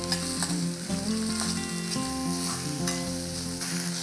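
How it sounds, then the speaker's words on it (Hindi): Finely chopped onions fry in a pan with a steady, loud sizzle that runs unbroken throughout, with a low hum beneath it and no voices. "अब मैं डालूंगी इसके अंदर ये प्याज जो मैंने बारीक काटा था, और इसको थोड़ा सा हम भून लेंगे।"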